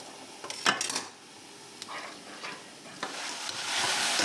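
Pork pan juices sizzle with melted butter and apples in a hot pan, a steady close frying hiss broken by a few scraping stirs and utensil clinks, with no voices.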